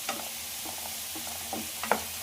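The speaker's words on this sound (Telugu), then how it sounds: "ఒక్కసారి కలిపేసుకున్నాం." Chicken and jackfruit seeds are stirred in a pan: a few distinct scraping strokes cut through a soft, steady sizzle, with a sharper knock near the end.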